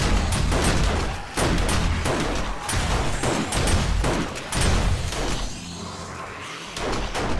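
Rapid, dense gunfire in the zombie survival game 7 Days to Die, loud and close, with bursts of shots repeating in a near-continuous barrage and short gaps between volleys.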